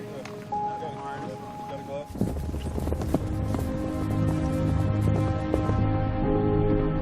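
Wild horses charge across Montana mountain country, a dense rolling clatter of hooves that builds from scattered clip-clops into a continuous thunder, with a voice talking over the start.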